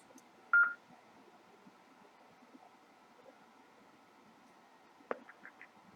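A brief DTMF dialing tone sounds on an amateur radio net while calling a linked node, a short sharp beep against faint radio hiss, followed by a few quieter clicks and tones, with no voices.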